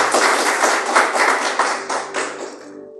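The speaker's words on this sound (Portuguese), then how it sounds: "Palmas para Jesus" A burst of close, loud hand clapping from a church congregation, dense and rhythmic, fading out toward the end.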